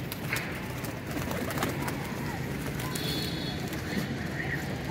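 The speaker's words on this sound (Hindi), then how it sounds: "सलारा कबूतर है, देखें ज़रा।" Salara pigeons coo steadily among a flock kept for pigeon flying, with soft repeated calls over constant background noise and faint chatter from people nearby.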